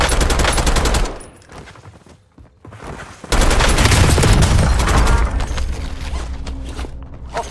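Loud, dense automatic gunfire rattles in Warzone, with a long sustained burst, a short lull broken by a few scattered shots, then another heavy stretch of rapid fire.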